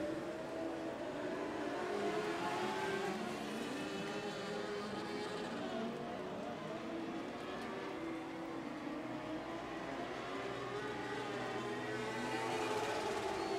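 NorCal Dwarf Car race cars run their final laps of a dirt-track A feature, a continuous roaring engine drone that swells and fades steadily as cars circle at a distance.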